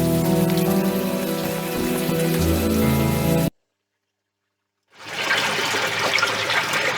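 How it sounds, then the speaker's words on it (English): Rain pattering steadily in the adventure game Unavowed, a dense, even hiss that drops to silence for about a second and a half, then resumes alone. "At least the rain is washing away most of the smell."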